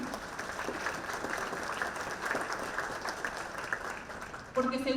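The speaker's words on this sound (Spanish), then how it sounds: "dense un fuerte aplauso" An audience at a parents' school talk in a church setting applauds, a dense sustained clapping from a crowd, fairly near, ending abruptly as a voice begins speaking over the last moments.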